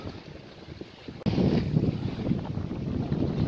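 Gusty wind buffeting a sailboat offshore near Portland Bill, with a steady rush that jumps sharply louder partway through and stays strong, without speech.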